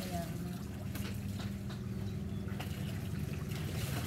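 Water trickles and splashes steadily from a faucet in the background during clothes washing while voices talk over it.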